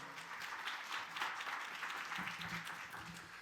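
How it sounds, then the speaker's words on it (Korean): A church congregation applauds to welcome the pastor before a sermon: a soft, steady patter of many hands clapping, somewhat distant and fairly quiet, lasting a few seconds. "우리 박수로 맞이하겠습니다"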